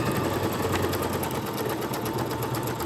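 A sewing machine stitches lace onto journal pages in zigzag mode, a fast, even mechanical whir with rapid regular needle clicks, close and steady throughout, with no voices.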